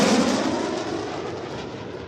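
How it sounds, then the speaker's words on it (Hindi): Rafale fighter jet of the Indian Air Force at an air show, a loud broadband roar that fades gradually over two seconds, with no voices. "आसमान में वायुसेना के फाइटर जेट राफेल की गरज कुछ ऐसी थी"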